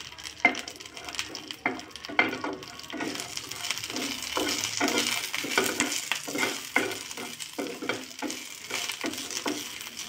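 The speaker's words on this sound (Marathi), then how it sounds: "यामध्ये आपण लसण सुद्धा परतून घेणार आहे" Garlic sautéing in a pan, following curry leaves, sizzles steadily while a spatula scrapes and stirs in a repeated rhythm of close, dry strokes.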